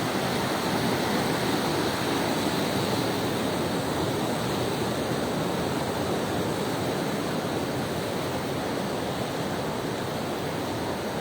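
Floodwater of the Tagoloan river rushing beneath a bridge during a typhoon, a loud, steady roar of churning water that fills the whole span without pause or change, with no voices.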